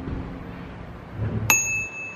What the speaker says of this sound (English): Oh, bell.